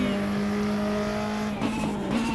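A Volvo 240 Turbo races around the Pau street circuit in the Race Injection video game, its engine holding a loud steady drone with tire noise and a brief dip before rising again.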